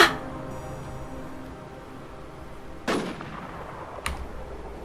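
Enemy gunfire in the game Infestation, a sharp opening shot followed by two more distant cracks spaced a second or more apart over quiet background noise.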